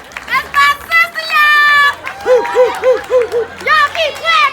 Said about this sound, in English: Y'all keep clapping! Keep clapping!